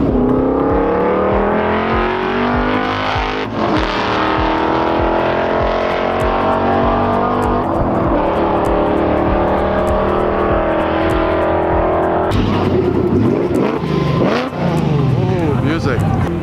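Race cars roar past at high speed one after another, engines screaming loudly and continuously with rising and falling pitch.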